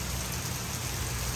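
Rain falling in the Dominican Republic, a steady dense hiss with no break or variation over a short stretch.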